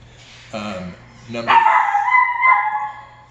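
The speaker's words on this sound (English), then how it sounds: "there's my dogs in the background" Several dogs bark, yip and whimper in the background at home during a live-streamed lecture, a few short harmonic barks followed by a longer whining howl, moderately loud.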